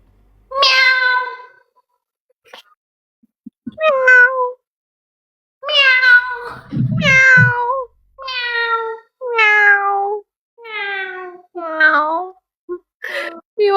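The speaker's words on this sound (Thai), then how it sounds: "อุ้ยเป็นแมวเหรอ" A cat meows repeatedly in a series of clear, close, fairly loud cries of varying length, with short pauses between them and a brief rustle partway through.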